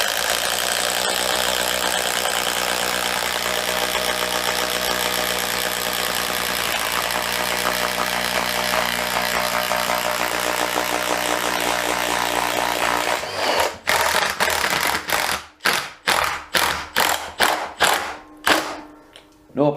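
Makita DTD171 cordless impact driver running flat out in its fourth speed, driving a 32mm DeWalt spade bit through wood: a steady loud motor whine that breaks into a rapid series of sharp hammering impact bursts near the end.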